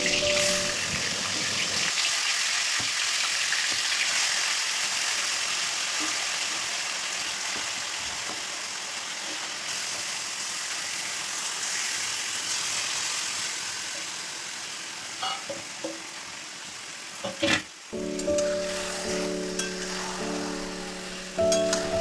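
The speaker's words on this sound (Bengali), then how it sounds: "তেলটা গরম হয়ে এলে মাংসগুলো আমি একে একে আস্তে আস্তে ছেড়ে দিচ্ছি" Pieces of marinated chicken frying in hot mustard oil give a loud, steady, rushing sizzle that stays dense and close throughout, then turns more uneven with clatter toward the end.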